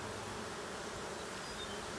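Honeybees swarm and buzz around an opened beehive during an inspection, a faint, steady, dense hum with no pauses.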